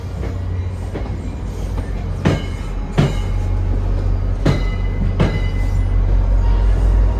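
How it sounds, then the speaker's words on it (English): A heavy diesel rumble and steady rolling roar come from an NJ Transit train heading to Hoboken, pushed from the rear by a GP40PH-2B locomotive originally built as a New York Central GP40. Sharp rail-joint clicks recur every second or so, loud and close. "NJ Transit GP40PH-2B number 4215, that was originally built for the New York Central as a GP40, is pushing on the rear of the train"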